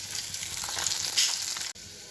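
Fish curry with papaya and potato sizzles steadily in spices in a pan, a loud, continuous frying hiss that swells briefly and then cuts out for an instant before resuming.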